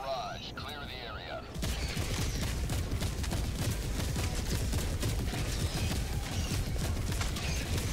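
Orbital barrage in Helldivers 2: after a brief stretch of voices and radio chatter, a sudden, sustained roar of rapid, overlapping explosions pounds continuously and loudly to the end.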